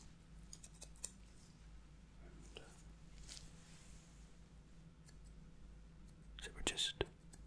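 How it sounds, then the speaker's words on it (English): Quiet snipping of small stainless steel barber scissors trimming eyebrows, scattered light cuts close to the ear, growing into a quick cluster of sharper snips near the end. "Beautiful set of shears."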